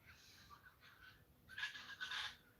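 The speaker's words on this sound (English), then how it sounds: "Can you hear all the birds?" Morning birdsong on a farm, faint and distant, with a few thin chirps and trills rising more clearly toward the end.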